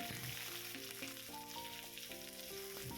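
Steady, close sizzling of ginger-garlic-green chilli paste and chopped onion frying in hot mustard oil in a wok, continuous throughout, with melodic music playing underneath.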